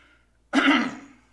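A single throaty cough after choking a little while talking, close and fairly loud, rising sharply after a quiet moment and trailing off quickly.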